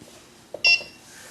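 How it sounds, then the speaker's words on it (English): A repeater controller gives a short, clear electronic beep, a single brief tone in an otherwise quiet moment. "Turn the beeper on and off."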